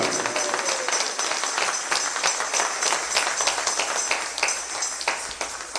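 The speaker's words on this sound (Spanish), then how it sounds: "Si me estás entendiendo, dale un aplauso al Señor." A church congregation claps in response to a Spanish-language sermon, a dense, continuous round of applause with some individual sharp claps audible throughout, fairly loud and steady.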